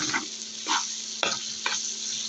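Boiled potatoes frying in a pan, a constant hissing sizzle punctuated by four distinct scraping stirs in quick succession, close and without voices.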